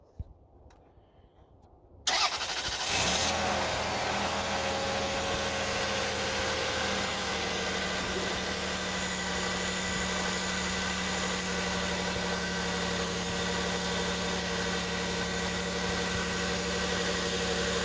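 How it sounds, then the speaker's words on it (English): A car engine cranks and catches after about two seconds of near silence, then settles into a steady, loud, close idle with constant hum and vibration, running alone without talk, right after an oil change. "now we're gonna start the engine for about 1 minute or 30 seconds and turn it off"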